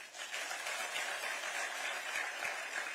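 Audience applause at an award ceremony at Raj Bhavan, Dehradun: a dense, steady wash of many hands clapping, sustained and even for about three seconds with no voices over it.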